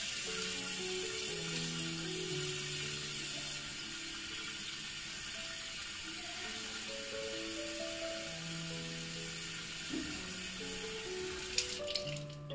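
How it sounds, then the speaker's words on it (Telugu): Tap water runs steadily into a bottle meant for growing a money plant, a soft continuous flow heard beneath background music. "ఇప్పుడు మనము వాటర్ అయితే నింపుకుందాం దీంట్లో"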